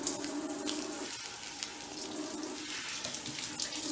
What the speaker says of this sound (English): I always cut my onions where there's running water